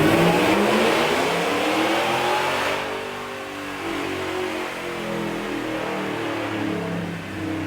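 A Ford F250 Super Duty with a Whipple supercharger revs hard, its engine note loud and rising then settling into a sustained high drone, close and steady without any talk.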